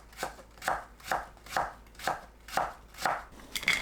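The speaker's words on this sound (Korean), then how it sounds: "사과도 고구마와 비슷한 크기로 채 썰어줍니다" A knife julienning apple on a cutting board for a sweet potato dish, with about eight crisp, evenly spaced chops close up and no voices.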